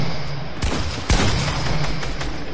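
Rapid video-game gunfire crackles in short bursts, with sharp shots standing out near the start and middle over a steady background of distant firing.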